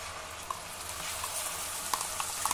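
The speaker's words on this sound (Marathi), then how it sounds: "आता मध्यम गॅसवर हे वाटण आपल्याला नीट परतून घ्यायचं आहे" Ground masala paste sautéing in peanut oil over a medium flame, a steady close sizzle with a few small pops and light spoon scrapes, no talk.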